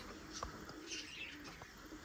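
A kokka pigeon calls softly in a quiet, distant setting, giving a few short coos with light chirps around them.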